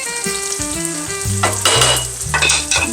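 Eggplant slices sizzle steadily in a hot frying pan, with a continuous crackling fry broken by clinks and scrapes of utensils against the pan as the pieces are stirred and turned; no voices.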